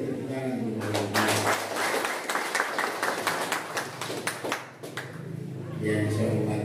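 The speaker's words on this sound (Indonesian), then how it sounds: "Mari kita tepuk tangan untuk Bapak." Audience claps for the regent at an official inauguration ceremony in South Manokwari, with a burst of scattered, moderately loud claps lasting several seconds, mixed with voices and background hum before fading.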